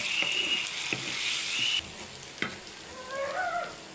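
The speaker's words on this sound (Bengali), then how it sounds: "এবারে আমি আদা রসুনের পেস্ট দিয়ে দিলাম আদা রসুনের কাঁচা গন্ধ যাওয়া পর্যন্ত দুই মিনিট মতো ভেজে নেব" Ginger garlic paste sizzles with onions in hot oil while a home-style chicken curry is cooked, a steady loud hiss broken by a few sharp scraping stirs, then quieter frying.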